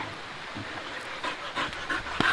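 A dirty dog pants quickly and close by after running, quiet rhythmic breaths with a few louder huffs toward the end.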